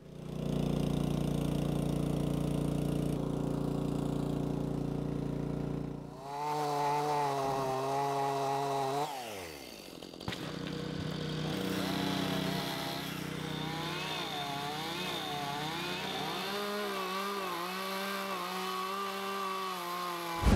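A chainsaw idles and revs loudly, its engine pitch rising and falling as it cuts tree branches, with the motor droning steadily throughout.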